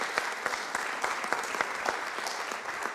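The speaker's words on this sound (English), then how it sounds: "let's give that a round of applause" Applause from the room at a city council meeting, a dense patter of many hands clapping steadily for a few seconds at moderate distance, with no talk over it.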